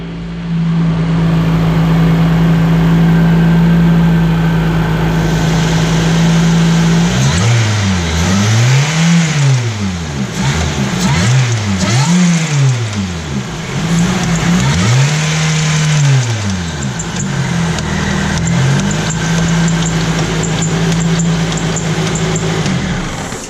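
Supercharged Pontiac Vibe with about 200,000 miles idling through an idle relearn, a steady close engine drone that rises and dips in repeated swells as the idle hunts, with no talking.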